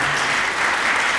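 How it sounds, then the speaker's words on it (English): An audience claps steadily and densely in a concert hall, honouring faculty performers after an organ concert, with the sound full and even throughout and no voices standing out. "How about a round of applause for our 7 faculty performing for you for free this afternoon?"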